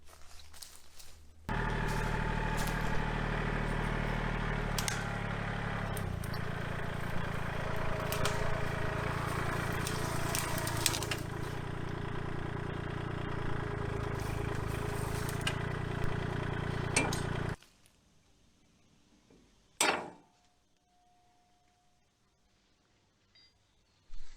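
A tractor engine runs at a steady, loud idle for about fifteen seconds, then cuts off, leaving quiet with a brief clunk afterward.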